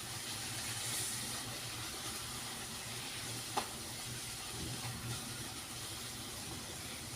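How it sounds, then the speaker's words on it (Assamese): Puris frying in hot oil for an Assamese atta puri recipe: a steady, fairly close sizzle and hiss runs through the whole stretch, with a brief tap near the middle and no talking. "এতিয়া মই বাকী লুচিকেইখনো এইদৰে ভাজি ল'ম"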